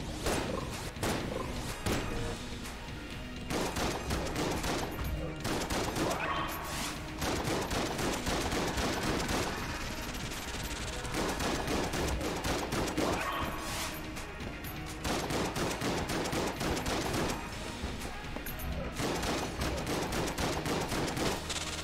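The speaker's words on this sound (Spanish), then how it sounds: "me llegan balazos y no sé dónde vienen" Gunfire rattles almost nonstop in Enter the Gungeon, dense rapid shots, thumps and crashing hits layered over game music in a loud, busy stream across the whole stretch.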